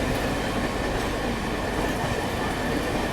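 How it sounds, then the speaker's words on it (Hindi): A Duronto Express runs alongside a Kolkata local train, a loud, steady rumble of wheels and carriages rolling at speed, close by and unbroken. "वो अपनी दुरंतो चल रही है और अभी तो लोकल ट्रेन ज़्यादा स्पीड में निकल रही है।"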